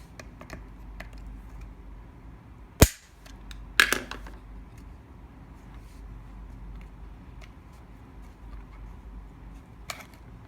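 A plastic piece on an Arduino scanner build snaps off by hand or with pliers, two sharp cracks close together near the start, followed by quiet handling noise and a faint click.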